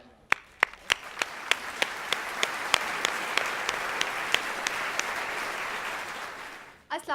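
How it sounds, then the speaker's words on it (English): A convocation audience applauds in a steady, dense patter of clapping that swells, holds for several seconds, then fades as a voice begins at the end, with a few sharp, louder claps standing out near the start. "Ladies and gentlemen, with a huge round of applause, Miss Myra Zakir."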